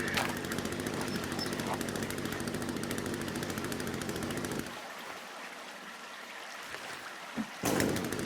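A video game chainsaw in The Forest gives a steady, buzzing motor roar that runs loud for several seconds, then cuts off into a quieter hum before a brief burst returns near the end.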